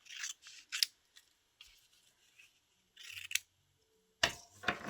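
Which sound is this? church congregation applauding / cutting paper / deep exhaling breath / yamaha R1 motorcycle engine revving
cutting paper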